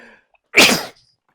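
One sharp, loud sneeze bursts out of near silence, close and brief, during an indoor theatre reading.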